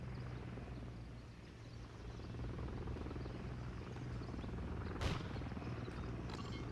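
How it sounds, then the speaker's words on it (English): An enemy Overwatch helicopter in Call of Duty Modern Warfare III makes a faint, steady rotor hum under distant battlefield noise, with a brief sharp crack near the end. "Enemy Overwatch Helo inbound."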